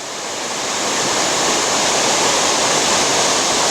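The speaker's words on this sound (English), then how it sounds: "obviously you can hear the falls in the background going crazy" Seven Sisters Falls in Grenada roars as a dense, steady rush of falling water, loud and close, swelling slightly at the start and then holding constant, with no voices.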